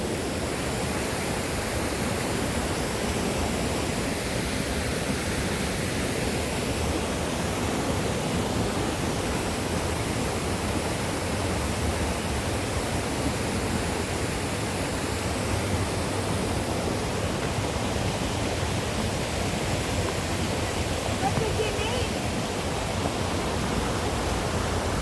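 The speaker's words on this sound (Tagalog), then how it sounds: "Ayan ang magandang waterfalls, guys. Yan pa lang naririnig namin." Waterfall at Inspiration Lake, Hong Kong, a dense, unbroken rush of falling water that stays loud and constant from start to finish, nearby and with no talk.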